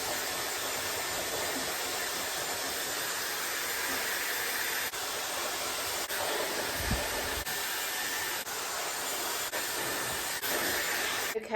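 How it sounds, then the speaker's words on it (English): A Dyson Airwrap with its dryer attachment blows steady, loud airflow while semi-drying hair at the roots. The hiss runs continuously, with a few faint clicks or bumps along the way. "now I am just going to go ahead and semi-dry my hair with the dryer attachment"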